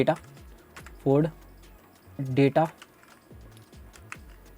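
Rapid clicking of computer keys while code is typed, a steady run of light taps with a couple of short bursts of speech breaking in between.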